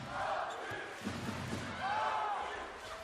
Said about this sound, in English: A big cheer as the home team bury it.